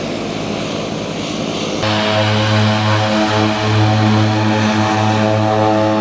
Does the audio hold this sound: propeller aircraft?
yes